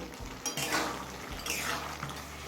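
Chopped ridge gourd stirred in a pan on a gas burner over high flame: a few scraping, clattering strokes of a utensil over a constant frying hiss.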